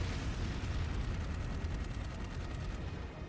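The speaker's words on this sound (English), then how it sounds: "now I'm just getting shot at." Rapid automatic gunfire in the video game Dark Void, a steady stream of evenly spaced shots that is loud and continuous, then cuts off near the end.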